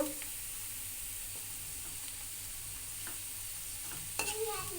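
Steady sizzling of cumin seeds frying in hot oil, a constant hiss with occasional stirring clinks and a brief louder crackle near the end; no voices.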